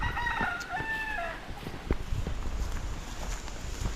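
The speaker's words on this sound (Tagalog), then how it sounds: "Mga manok aliwalas dito." A rooster on a provincial farm lets out one clear crow early on, fairly close and loud, followed by quieter clucks, scratching and footsteps around the yard.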